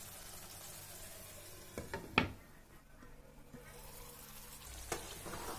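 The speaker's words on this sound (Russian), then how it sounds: "закрываем крышку, тушим еще буквально 1-2 минуты" Zucchini ragout stews under a lid with a faint, steady low sizzle, broken by a couple of brief clanks or taps, quiet and close throughout.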